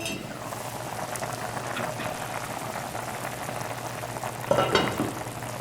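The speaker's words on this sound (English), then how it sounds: "Let's cover this back and let that cook." Fish broth simmers in a covered pot in a Trinidad home kitchen, a steady close bubbling and hiss with a low hum beneath and a brief clatter near the end.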